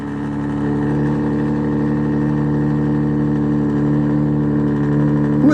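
A vehicle engine runs close by with a steady, even mid-pitched hum that holds for several seconds, growing slightly louder at the start, with no voices.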